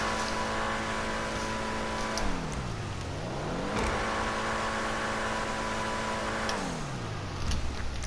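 A turbocharged Dewbauchee Specter sports car in the racing video game GTA Online drones with a steady engine tone. The pitch drops twice as it shifts and then climbs again, and soft turbo whistles and flutters come after each lift.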